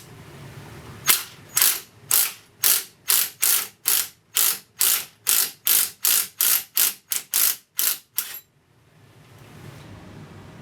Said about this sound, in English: a harmonic balancing puller